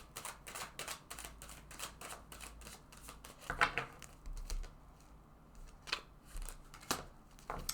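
Tarot cards drawn and handled during a card reading, with soft repeated flicks, shuffles and taps close by in a quiet room, irregular and fairly faint throughout.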